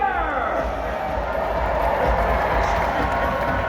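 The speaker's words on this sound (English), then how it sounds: "have a nice round of applause for Sir Andrew Soler" A crowd at a live jousting and sword-fight show at the PNE cheers and applauds a knight rider, a steady, dense roar of clapping and voices that stays loud throughout.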